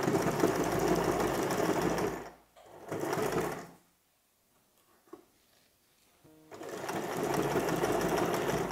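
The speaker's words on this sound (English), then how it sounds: "So before you start, you sew a few stitches like so. Do a lock stitch to lock in your stitch" A sewing machine running close and loud as it stitches a seam with a lock stitch, two bursts of steady whirring and clatter, a near-silent pause with faint handling, then stitching again.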